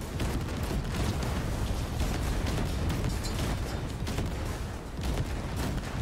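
A Cyberpunk 2077 firefight keeps up a dense, unbroken barrage of gunshots and blasts, loud and crowded, with shots layered over each other for the whole stretch and no pauses.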